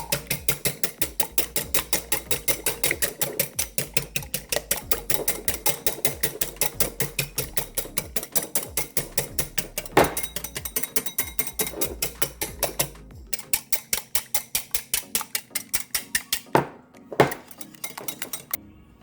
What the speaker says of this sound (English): here I have the 2 eggs. I'll beat it up lightly.